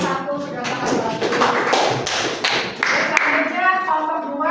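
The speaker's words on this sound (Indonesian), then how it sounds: "Tepuk tangan untuk kelompok 1 sudah sangat bagus." A classroom group claps for a student team after a presentation, a brief burst of scattered, close-by hand clapping with people talking over it.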